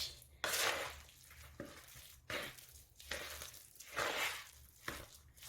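Onions and spices are stirred into a potato mash for samosa filling, giving soft repeated scraping and squelching strokes of a utensil against a bowl, quiet and close, with no talking.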